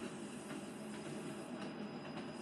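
A class 142 train bouncing along the track between Crewe and Liverpool Lime Street, heard from inside as a steady, loud rumble with faint rhythmic wheel clicks and no voices.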